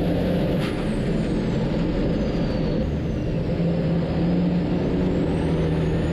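A big-rig racing truck powers out of turn four at Caraway Speedway in North Carolina during a FASS Big Rig Series race, its engine a loud, steady, heavy roar that fills the whole stretch without letup, with no voices over it.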